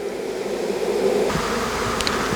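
Honeybees from a swarm buzz steadily and close, a dense continuous drone filling the air throughout with no voices present.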